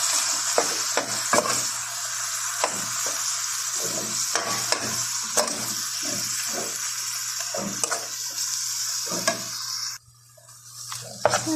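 Meat filling for sambosa sizzles steadily in a hot pan while a spoon scrapes and stirs through it in repeated strokes, close and loud, until the sizzle drops away near the end.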